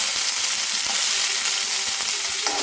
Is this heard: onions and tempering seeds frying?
yes